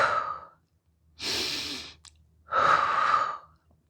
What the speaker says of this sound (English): Now we breathe through the nose 6 times.